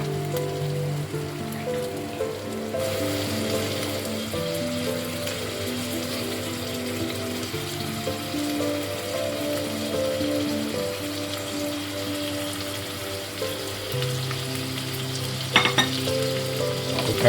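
Mutton liver frying in ginger-garlic masala in a pan, a steady close sizzle that swells when stirring begins, with a spoon clinking near the end.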